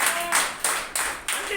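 Church congregation clapping loudly during a Sunday service, with bursts of applause starting roughly every third of a second, each opening sharply and then fading while the room stays noisy.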